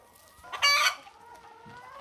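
Hens clucking at feeding time in an unheated greenhouse during subzero winter weather, a loud burst of calls and a crow-like cry rising briefly above a quieter background of softer clucks.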